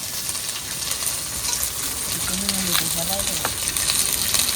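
Nigella seeds and chopped onion frying in hot oil for a rui fish dish, a steady close sizzle and crackle with faint stirring, with a brief low voice-like tone in the middle.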